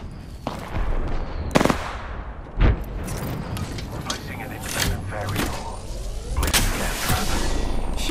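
Sci-fi shooter video game gunfire, sharp bursts of shots cracking repeatedly over a rumbling battlefield background, some loud and close, others scattered, while a player talks over the action.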